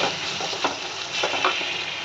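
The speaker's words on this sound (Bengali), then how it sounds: "পেঁয়াজটা একটু ভাজা হবে" Onions sizzle steadily in a hot pan, a continuous close frying hiss with a few brief scraping stirs, no voices present.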